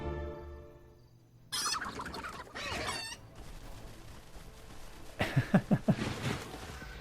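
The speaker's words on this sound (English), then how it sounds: "They just threw a bunch of chickens" Chickens clucking and a rooster crowing in the fantasy strategy game Age of Wonders 3, with a short burst of squawks followed by a quick run of loud, sharp clucks near the end.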